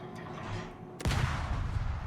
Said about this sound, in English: Pretty neat gun sound.